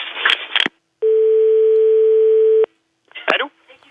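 A telephone dial tone sounds when placing a call, a loud steady single-pitch tone lasting about a second and a half, with people talking briefly before and after it.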